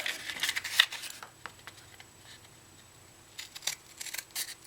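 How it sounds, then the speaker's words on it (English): Crisp snipping of scissors through stiff material, a few quick cuts at the start, a quiet pause, then more cuts near the end. "Use your scissors for paper or cardboard."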